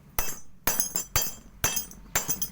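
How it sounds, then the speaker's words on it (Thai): A hammer strikes the pin of a chain five times at an even pace, about every half second, each blow a bright metallic clink close up with a brief ringing tail. "ใช้ค้อนทุบตรงหมุดมันนะครับ ทุบแรงๆ นะครับ"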